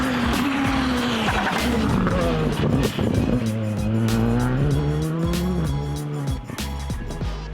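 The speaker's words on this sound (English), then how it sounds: "As if he'd been driving his newly acquired Skoda for more than just the one day, Rob Swan would surprise us all" Skoda rally car driven hard on a spring rally stage: a loud, close engine rising and falling through gear changes, with tyre squeal and gravel or skidding noise throughout and no talk.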